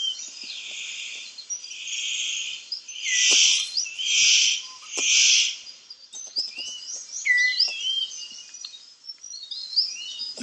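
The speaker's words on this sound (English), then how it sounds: "The superb bird of paradise calls to attract a female." Superb bird of paradise calling in rainforest, loud, harsh, buzzy bursts repeated several times, then a run of quicker chirping notes over faint insect and bird background.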